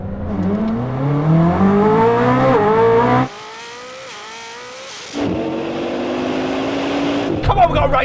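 A Bugatti Divo and a Koenigsegg Jesko launch side by side in a drag race, engines revving loudly and rising in pitch through the gears, with a short drop in the middle before a strong roar returns, while a person shouts over it.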